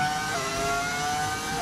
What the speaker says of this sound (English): right now nobody has the actual engine noise because this is actually a V10 engine